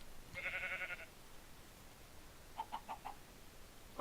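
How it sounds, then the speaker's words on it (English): Sheep bleats in the Minecraft video game, one short wavering bleat followed by a quick run of four clipped bleats, faint against a low hiss with no talking. "That was a sheep dancing on a wolf skin tanning rack."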